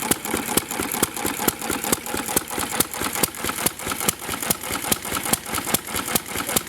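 A McCormick Deering M tractor engine runs steadily just after its first start following restoration, with a close, even chugging beat of regular firing thumps over a continuous mechanical rumble.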